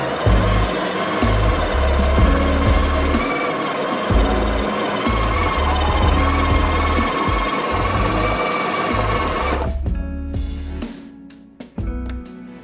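A Breville Barista Express grinds Starbucks medium roast coffee with a loud, steady, gritty mechanical whir that runs for about ten seconds, then cuts off and is followed by a few scattered clicks and taps.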